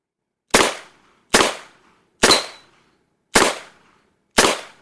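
A revolver fires five sharp shots at a steady pace, each crack loud and close with a quick decaying tail, separated by clean silent gaps.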